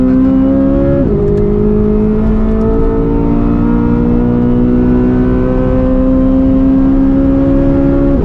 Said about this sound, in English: Oh my gosh, fourth gear just revs out forever.